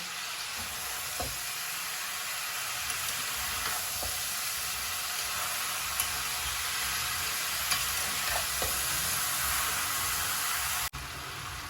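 Chalta pickle sizzles loudly and steadily in a wok, a broad, hissing roar of frying with faint occasional scrapes and taps from stirring, and no talking.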